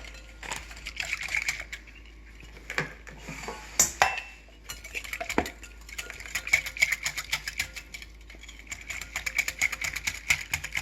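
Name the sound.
mixing crepe batter of oil and flour with spoon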